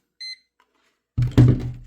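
A multimeter set to continuity gives one short, clean electronic beep while probing a shorted circuit board, followed by a burst of louder handling noise and clatter.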